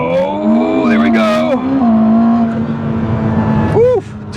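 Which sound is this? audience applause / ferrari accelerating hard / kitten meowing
ferrari accelerating hard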